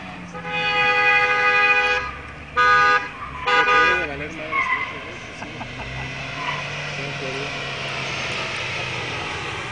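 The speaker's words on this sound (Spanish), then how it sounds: "Ya me cansó el claxon" A car horn honks in short repeated blasts nearby during a driving test in Cali, with traffic noise and people talking underneath.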